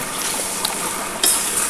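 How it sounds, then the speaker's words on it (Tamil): Liver pieces coated with turmeric, salt, ginger-garlic paste and chili powder sautéing in a pan, giving a continuous soft sizzling hiss with a brief sharper spatter near the end. "நல்லா வதக்கணும்"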